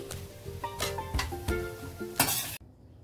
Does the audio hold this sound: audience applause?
no